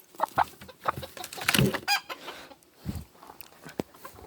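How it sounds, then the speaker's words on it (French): A laying hen gives close, uneven clucks and short squawky calls in irregular bursts, fairly loud against a quiet background. "C'est une poule pondeuse"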